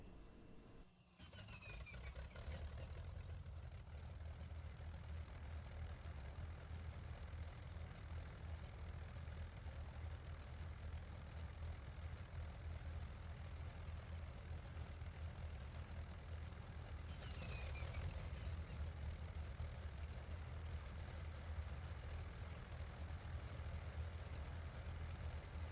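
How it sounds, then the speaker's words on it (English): Inside the cockpit of a Junkers Ju 88 C-6 in a flight simulator game, engines turn over and settle into a steady droning rumble that continues loud and unbroken, with a faint whine rising partway through. "press E to start the engine"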